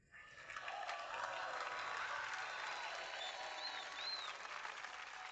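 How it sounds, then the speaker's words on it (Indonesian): An audience applauds warmly as a man is welcomed onto a stage, the dense clapping rising quickly and holding steady throughout, with a faint crowd murmur beneath. "Mari kita sambut dengan tepuk tangan meriah."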